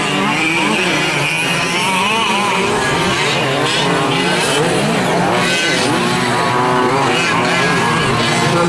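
2WD trucks racing around a track in an open A main event, a loud continuous whine of engines rising and falling as they pass, with an announcer talking over the din.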